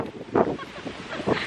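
Strong wind buffets the microphone outdoors, a steady rushing roar that swells into two louder gusts.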